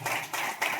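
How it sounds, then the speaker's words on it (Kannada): A church congregation claps loudly in a hall, three dense bursts of many hands in quick succession. "ಚಪ್ಪಾಳೆ ತಡಬೇಕು ಜೋರಾಗಿ ಕಾಲಿ"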